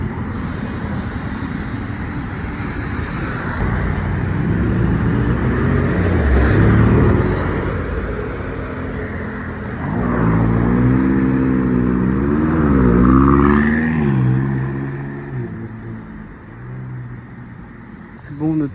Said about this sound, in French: je l'entends la McLaren démarrer